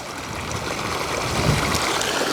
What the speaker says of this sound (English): I'm just filming the creek.